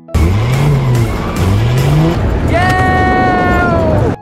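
A car driven hard during a courier driving test, its engine revving in rising and falling surges, then a long tire squeal as it skids, loud and close throughout.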